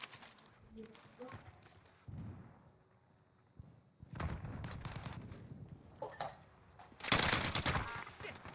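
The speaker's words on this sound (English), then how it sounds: "I'm taking fire. Enemy hostile fire." Gunfire crackles in the Warzone battle royale game as a RAAL LMG firefight unfolds, with scattered shots and a loud burst near the end, mixed with voices talking over the action.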